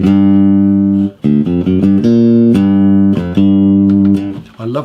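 A newly finished handmade hollow body electric jazz guitar rings out alone and close, playing a short phrase of clean sustained chords and single notes with a warm, round tone.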